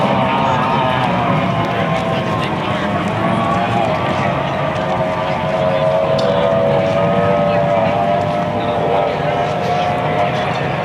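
Steady, droning roar of several classic outboard runabout boats racing a 20-lap main event on Folsom Lake, California, engine whine rising and falling in pitch, with a faint crowd murmur underneath.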